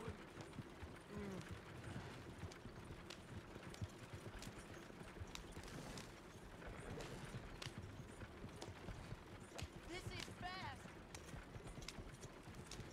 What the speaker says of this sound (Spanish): Todavía un caballo potente.